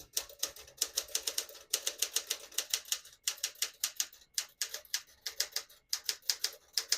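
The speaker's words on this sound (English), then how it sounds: "I'll type a sentence in red on the next line and switch from black to red" Rapid keystrokes on a 1965 Smith-Corona Sterling portable typewriter typing in red ribbon, sharp clacks in quick bursts with short pauses between words, close and clear with no talking.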